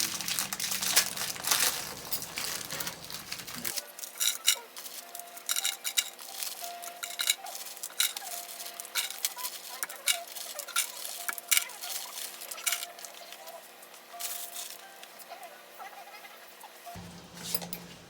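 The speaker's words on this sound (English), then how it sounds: "we'll be taking our pack of Maria's cookies and we'll be breaking them up and putting them into our container" Maria's cookies are snapped and crumbled by hand into a container, a run of irregular crisp crackles, crinkles and light clinks, close and fairly quiet, with no speech.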